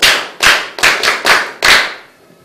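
A small group clapping for a student in a classroom, six quick close bursts of hand claps in a row, each fading briefly before the next, with no talk.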